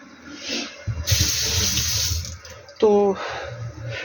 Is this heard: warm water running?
yes